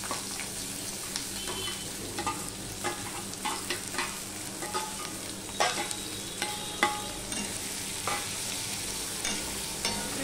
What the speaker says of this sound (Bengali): এইভাবে শুকনো লঙ্কা ফোড়নে দিলে, তার সাথে যদি তেজপাতা, গরম মশলা দিয়ে তারপরে যখন পেঁয়াজ আর রসুনটা দেওয়া যায়